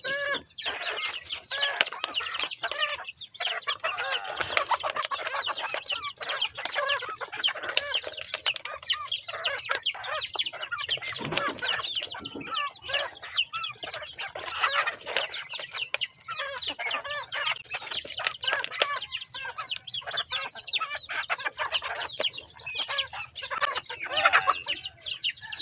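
A flock of backyard chickens and roosters clucks and squabbles noisily while being fed, dense overlapping calls close by with occasional wing flaps and no talk.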